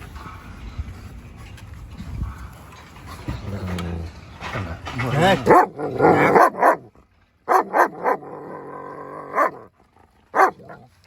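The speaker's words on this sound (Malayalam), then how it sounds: "ഹ്യൂമൺ അഗ്രഷൻ വിത്ത് അനിമൽ അഗ്രഷൻ ഉള്ളൊരു ഡോഗാണ് ഇവൻ" A large German shepherd barks aggressively in loud, repeated bursts with growling between them, while a person speaks over the noise.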